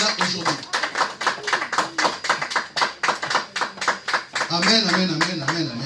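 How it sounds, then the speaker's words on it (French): A church congregation claps in a steady rhythmic beat at moderate distance, with voices singing and calling out over the applause throughout. "nous allons applaudir notre Jésus"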